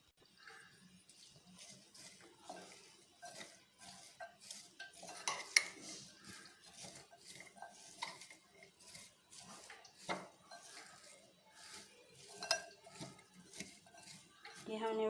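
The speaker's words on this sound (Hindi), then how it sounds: "प्याज और धनिया, सारे मसाले, इनको मिक्स करते हैं।" Onion, coriander and spices being mixed in a bowl in a home kitchen, with repeated clinks and scrapes of a spoon against the dish, irregular and close, while someone talks.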